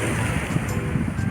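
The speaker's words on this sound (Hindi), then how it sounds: "हर हर की आवाज़ समुद्र भी कर रहा है" Sea waves at a Bay of Bengal viewpoint churn in a brief, continuous rumbling wash, close and fairly loud, with some wind buffeting the microphone.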